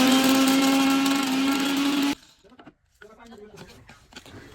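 A kitchen blender grinds cardamom pods with a loud, high, steady whir for about two seconds, then cuts off, followed by faint rattling and a voice talking.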